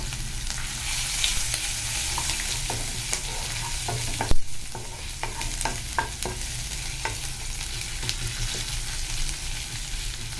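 Cumin seeds and garlic frying in hot ghee, a loud continuous sizzle and crackle with scattered pops and a sharp clank of a utensil midway, no voices.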